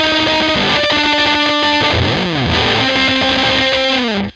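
Heavily distorted electric guitar plays the octave-based outro riff of a song alone, loud and sustained with shifting pitches and bends, then cuts off sharply at the end.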